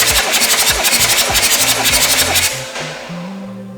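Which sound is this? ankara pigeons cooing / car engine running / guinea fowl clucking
car engine running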